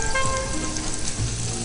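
Finely minced garlic and onion sizzling in a pan, a steady close crackling fry without pause and no voices.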